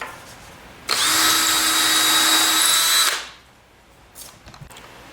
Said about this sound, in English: now we do the pivot bolt hole in the center